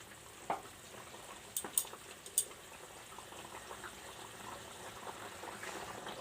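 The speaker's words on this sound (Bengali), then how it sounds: "আমাদের আলু ঝোল ফুটছে" Aloo dum potato curry gravy bubbling in a pot, a soft steady simmer with a few sharp clinks and pops near the start, otherwise a low continuous burble with no voices.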